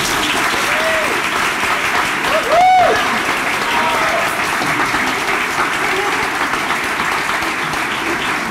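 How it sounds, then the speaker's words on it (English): Sustained applause fills an awards ceremony hall as a hospital department team is honored at a state health department recognition event, steady dense clapping throughout with a brief swell and a faint whoop partway through. "please stand for applause."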